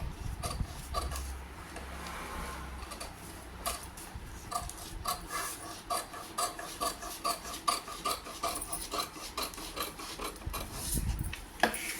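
Tailoring cloth is cut in a steady series of rhythmic snips and rasps, heard close over a constant background hum.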